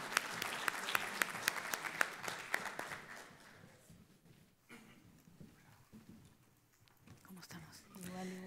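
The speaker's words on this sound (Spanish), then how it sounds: "con un muy cálido aplauso." An audience at a financial inclusion conference panel applauds with warm, sustained clapping that fades after a few seconds, followed by quieter room noise and a voice speaking.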